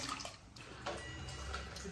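Water pours steadily into a container, a continuous splashing rush that stays close and even throughout.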